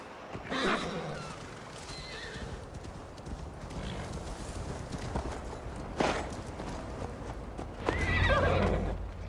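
Horse hooves clip-clop at a gallop in Assassin's Creed Valhalla, with a loud neigh near the start and another whinny near the end over steady hoofbeats.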